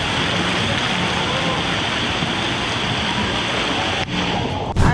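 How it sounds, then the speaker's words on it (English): Volcano Bay wave pool as its waves are about to start, a broad, steady wash of churning water filling the background at a constant level, with a couple of brief knocks near the end. "we're at the Volcano Bay wave pool, and the waves are about to start. That's why y'all hear that sound in the background."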